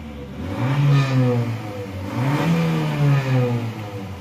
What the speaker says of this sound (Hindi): गाड़ी को मैं एक्सेलरेट करता हूँ